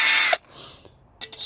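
Cordless power drill fitted with a drill bit and an extender, whirring loudly for about a third of a second, then stopping abruptly, with a faint clunk and handling noise before a brief second burst.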